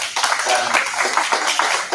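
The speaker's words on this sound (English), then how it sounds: "A big round of applause for that." An audience at a book festival session claps in a dense burst of applause, steady and fairly close, with a few faint voices mixed in.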